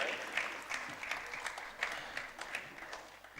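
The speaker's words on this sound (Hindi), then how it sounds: "तालियां बजती रहनी चाहिए भाई" Audience at an Independence Day evening honouring martyrs claps steadily, a dense patter of many hands with a few louder swells, heard alone without talk.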